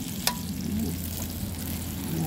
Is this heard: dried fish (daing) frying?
yes